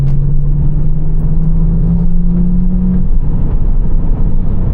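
Cabin of a BMW 325i E93 with the N53 engine and a backbox delete, 170k miles, filled with a loud, steady low engine drone and road rumble, a faint rising whine for the first three seconds, no talk.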